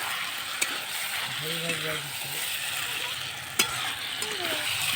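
Chicken being stir-fried for a kosha curry in a pan, with leaves added during the frying: a steady sizzle with a few sharp clinks of a utensil against the pan.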